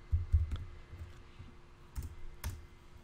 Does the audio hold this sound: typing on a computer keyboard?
yes